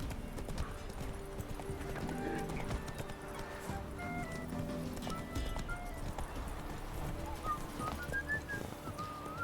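A horse gallops in The Witcher 3, with steady hoofbeats drumming at a quick pace close by, blended with ambient game music and occasional whistling tones. No one speaks.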